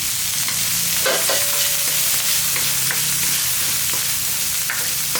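Small onions sautéing in a pan for banana stem sambar, a steady close sizzle and frying hiss with occasional stirring scrapes throughout.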